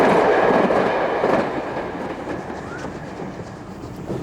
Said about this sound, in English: E5001 heads eastwards at Millbrook with a special from Bournemouth.